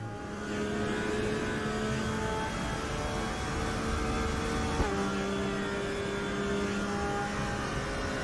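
A Porsche race car engine in the RaceRoom racing game drones steadily at high revs, with gear changes shifting the tone midway, loud and continuous with no voices.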